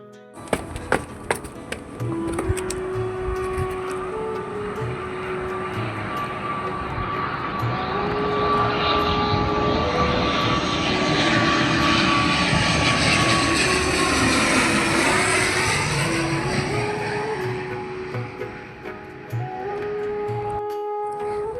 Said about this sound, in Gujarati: પ્લેન આવી ગયું હતું ને, તો પ્લેનનો વિડીયો ઉતારવા ઉપર વહી ગઈ હતી.